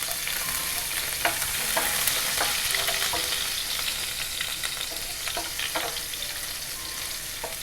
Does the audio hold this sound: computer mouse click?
no